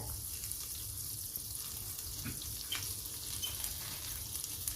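Butter with red pepper flakes sizzling and frying in a copper pot for a winter soup, a steady soft crackle with occasional louder pops, fairly close and without talk.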